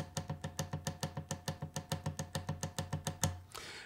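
A guitar is strummed fast in a steady Irish jig triplet rhythm. The crisp, evenly spaced strokes run for about three seconds before a final accented strum rings out alone.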